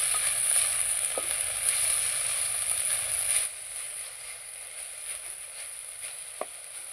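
Tamarind leaves for chutney frying in hot oil give a steady bright sizzle throughout, with a drop in intensity midway and a couple of faint utensil taps, no talking.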